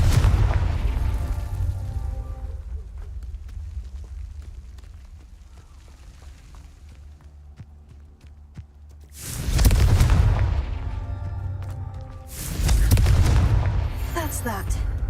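Confringo explosive spell cast in the video game Hogwarts Legacy, producing two loud booming blasts several seconds apart over a steady low game rumble.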